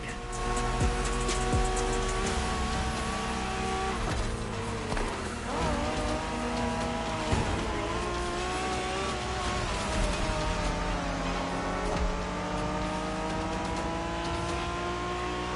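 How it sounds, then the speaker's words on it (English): Cars street racing in the video game Motorfest, Japanese style: engines rev and climb through the gears almost constantly, with tires squealing now and then over a dense, steady racing roar. "We're going for some proper Japanese street racing."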